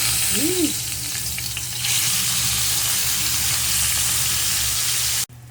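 Pork sizzling in hot cooking oil in a pan, a loud, steady frying hiss that holds for the whole stretch and cuts off abruptly near the end.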